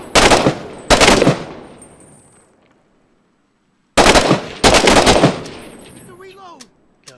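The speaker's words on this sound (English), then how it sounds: "So one single round. One round at a time. Hit Y again. Does a semi-auto." Single semi-automatic rifle shots in the video game Six Days in Fallujah, four loud sharp cracks in two spaced pairs, each followed by a decaying echo, with a quiet gap between the pairs.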